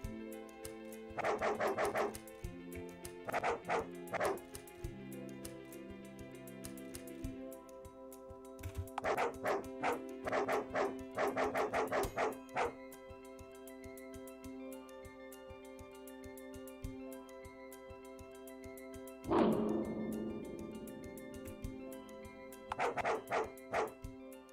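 Dog barking in the Dialtown phone dating sim video game, repeated bursts of barks and yips in clusters with pauses between, over a quiet game background tone.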